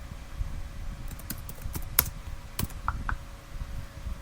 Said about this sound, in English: I should learn how to talk when I'm typing.